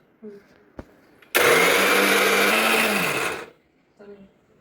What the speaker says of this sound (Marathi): उरलेलं खोबरं आणि अर्धी खसखस ही मिक्सर मधनं आपण आता वाटून घेत आहोत